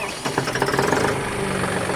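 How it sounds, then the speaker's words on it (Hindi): A John Deere 5210 4WD tractor, a 50 hp diesel, starts up close by. The cranking chugs quickly settle into a steady, rumbling idle, with no talking. "ट्रैक्टर को करते हैं स्टार्ट"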